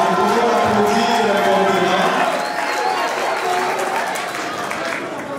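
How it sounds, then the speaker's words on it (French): A crowd applauds loudly at a political gathering honoring a reappointed Minister of Finance, with dense, steady clapping and crowd noise that tapers slightly toward the end. "voilà, nous pouvons l'applaudir"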